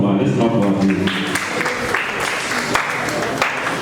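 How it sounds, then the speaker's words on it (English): A classroom of schoolchildren claps for a classmate. Brisk, uneven clapping rises out of a voice and continues for a few seconds close by. "Let's clap for her."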